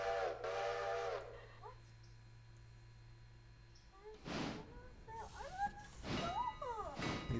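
A train locomotive whistle gives a short, strong tonal blast at the start, followed by quieter rumbling, mechanical thunks and some chirping tones, with no talking.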